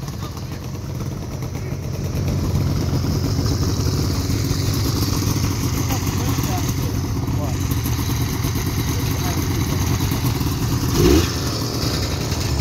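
A Ski-Doo 670 Summit X snowmobile fitted with twin race pipes runs loudly and steadily nearby, its two-stroke engine droning with a rattling buzz and a brief swell near the end.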